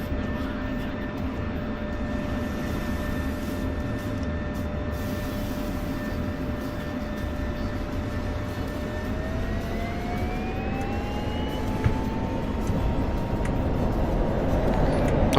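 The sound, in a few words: F-16 Viper jet taking off in a flight video game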